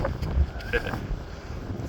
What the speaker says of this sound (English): very windy. Look at the trees.